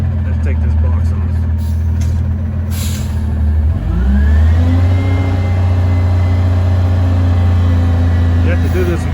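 Roll-off truck engine revving up to power its hydraulics for lifting off the container box, a loud steady diesel drone rising in pitch midway and holding high, with a hiss of air brakes early on and someone speaking over it.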